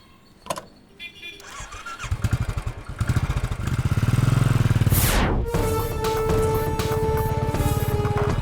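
Motorcycle engine cranked and starting with sputtering pops, then revving up loudly nearby and pulling away, the engine note settling into a steady drone as it drives off, with brief speech over it.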